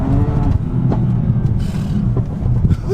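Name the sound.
BMW F80 M3 Competition engine accelerating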